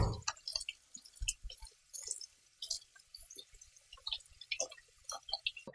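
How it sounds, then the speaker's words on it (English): Small red potatoes are washed in water, making soft, irregular splashes, drips and wet rubbing that sound close and fairly quiet. "now I'm going to wash my red potatoes"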